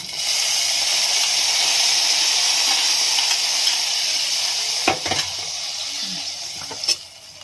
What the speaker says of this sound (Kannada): ಕೆಂಪು ಕಲರ್ವರೆಗೂ ಫ್ರೈ ಮಾಡ್ತಾ ಇದ್ದೀನಿ.